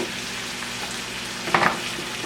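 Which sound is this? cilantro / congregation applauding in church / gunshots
cilantro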